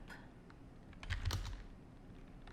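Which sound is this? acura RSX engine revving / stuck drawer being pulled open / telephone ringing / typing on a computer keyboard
typing on a computer keyboard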